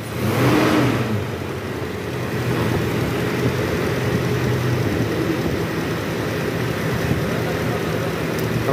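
Toyota Innova petrol engine revving under throttle during a workshop check after an oil-leak repair, a loud sustained roar that swells at the start and then holds steady and droning.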